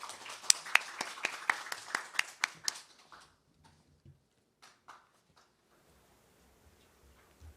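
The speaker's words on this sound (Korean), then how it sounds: "큰 박수로 박사님 맞이해 주시기 바랍니다" Brief applause at a seminar as a speaker is welcomed on stage: a dozen or so sharp, close claps in a quick run, then scattered sparse claps and thumps fading into quiet room noise.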